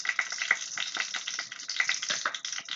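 Fennel seeds, stone flower, bay leaf, cinnamon and cloves frying in hot oil for chicken gravy, a dense continuous crackling sizzle with rapid popping, close and steady throughout.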